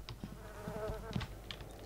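Flies swarm and buzz over leftover dishes in The Sims 2, a faint wavering drone mixed with intermittent clicking, moderately quiet and with no one speaking.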